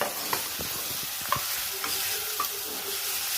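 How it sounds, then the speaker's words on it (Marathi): Mashed roasted brinjal for bharit is stirred into a hot pan, a soft steady sizzle with a few light spoon scrapes and taps, close and even, with no talking. "हे आता वांगे टाकून घ्यायचे आहेत आपल्याला चांगले असे स्मॅश केलेले मिक्स करून घ्यायचं चांगलं"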